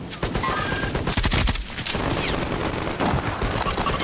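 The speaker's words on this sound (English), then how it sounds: "They're still shooting me!" Dense, loud bursts of automatic gunfire rattle almost continuously in a Call of Duty Warzone battle, with overlapping shots from several weapons and no pause.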